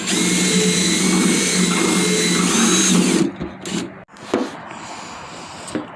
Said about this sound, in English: Just gonna enlarge this hole a little bit here.